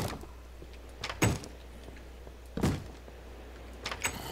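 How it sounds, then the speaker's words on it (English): Wooden doors thudding shut in Minecraft, three separate knocks spaced about a second and a half apart, moderately loud against a quiet low hum. "Just close these doors."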